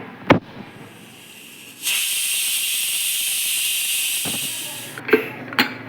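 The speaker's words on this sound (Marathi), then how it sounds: "पाच शिट्ट्या घेऊन घेते मी कुकरचे" A loud hissing rush of steam from a pressure cooker whistle lasts about three seconds, framed by a few thuds and clatters before and after.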